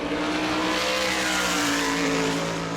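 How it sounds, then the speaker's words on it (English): A NASCAR Whelen Modified race car on a qualifying lap at New Smyrna, its engine a loud, continuous high-revving roar held steady throughout, close and alone. "The Tom Baldwin race car looking racy as it comes back to the right"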